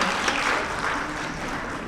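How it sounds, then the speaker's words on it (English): A panel-discussion audience gives a short round of applause, a dense, even wash of clapping held steady throughout without any speech over it. "Another round of applause."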